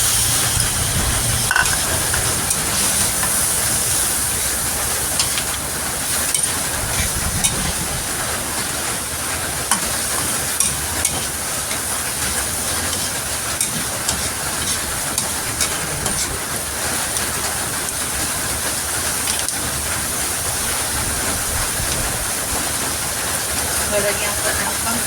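Pork with carrots and baguio beans stir-fries in a pan, giving a continuous loud sizzle and hiss that holds steady throughout.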